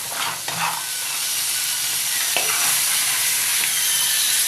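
Sea crabs frying in oil in a pan for a spicy Bengali crab curry, seasoned with turmeric and salt, giving a steady close sizzle with a few clinks from stirring.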